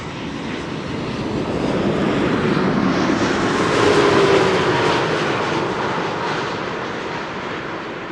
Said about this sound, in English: Turkish Dreamliner up next.